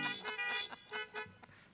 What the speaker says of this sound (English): You got some honks.